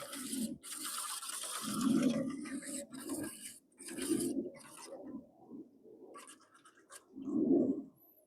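A paddle on a tinnie catamaran paddle boat, with the rudder hard over, rubs against one side of the hull in a series of soft, close scraping strokes spaced a second or so apart.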